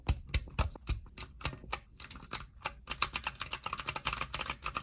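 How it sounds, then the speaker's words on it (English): Fast typing on a Z77 mechanical keyboard with its standard keycaps gives sharp, high-pitched clacks, starting as spaced strikes and building into a quicker, denser burst, close and clear. "See a much higher pitch sound on the normal keys."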